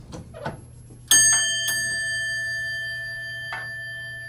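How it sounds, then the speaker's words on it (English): Chime of a Westinghouse hydraulic elevator at Dynasty Plaza: a loud bright ding with a long ringing decay, a second softer strike just after, and a faint third tone near the end, heard alone over a low hum. "I'm gonna sample the dinner bell one more time."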